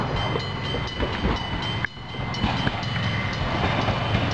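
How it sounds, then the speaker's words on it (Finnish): A commuter train runs past on a line into the city centre, a loud, steady rumble with rhythmic clicking of wheels over rail joints throughout, and no voices. "Siinä menee nuo junat, menee tuota puolen tunnin välein"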